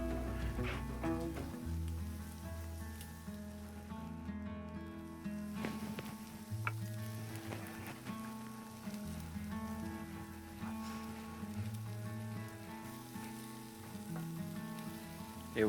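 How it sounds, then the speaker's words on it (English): Pasta in cream sizzles steadily in a hot wok over B&B charcoal, a soft continuous frying hiss with faint stirring and no talk. "I always like to add it to the side of the wok so it gets, you hear that sizzling."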